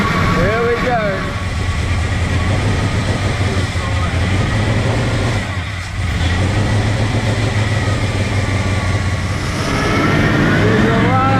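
A swapped engine in a P6 LTD rally car limo runs steadily with a low, rough drone throughout, while people talk over it nearby.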